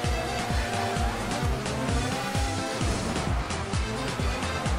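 A car in a racing video game revs hard through repeated rising engine sweeps with tire squeal as it spins out, loud and continuous without talk.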